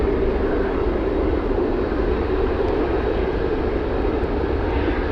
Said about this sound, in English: Let's go over to the UPS crossing the runway